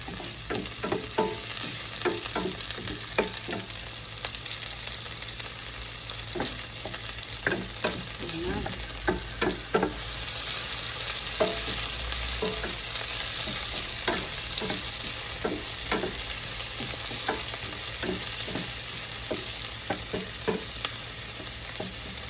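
Onions sizzling and frying in a pan for a sardine dish, a continuous crackling hiss with repeated spatula scrapes and stirring knocks close by.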